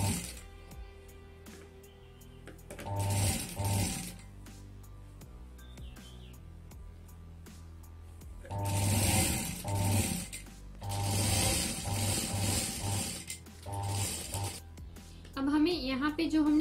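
A sewing machine stitches a second border onto a homemade laptop bag, running in several short mechanical bursts of rapid clatter separated by quiet pauses, with the longest run in the middle.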